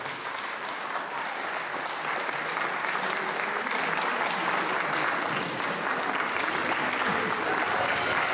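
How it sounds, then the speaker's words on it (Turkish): Wedding guests break into sustained, loud applause, a dense wash of many hands clapping steadily throughout with a faint crowd murmur underneath. "Alkışlar güçlü olsun."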